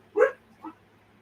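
An eight-week-old puppy gives two short, high yips close by, the first louder and the second softer, in an otherwise quiet room.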